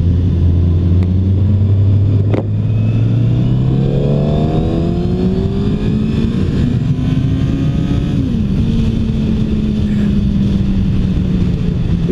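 A 2016 Suzuki GSX-R1000 engine pulls hard in second gear, its loud close tone rising steadily in pitch, dipping briefly at a shift, then holding high under heavy wind rush.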